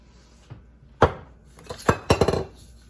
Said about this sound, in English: let's put some olive oil on here and toss it